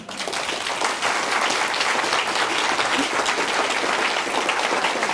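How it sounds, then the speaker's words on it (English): A roomful of people applauds continuously, dense clapping that stays loud and steady from start to finish. "so we can give you this award and you can get tumultuous applause"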